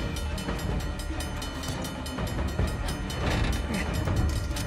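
A train rumbles and clatters continuously in Uncharted: The Lost Legacy, with rhythmic metallic clicks over a loud rolling roar that swells slightly toward the end.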